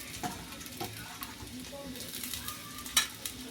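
Grated coconut roasting in hot oil in a pan gives a steady, close sizzle with stirring scrapes throughout and a sharp metallic clink near the end.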